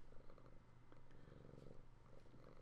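A house cat purring close by in a quiet room during a Bloodborne gaming session, a soft, steady low rumble running without pause.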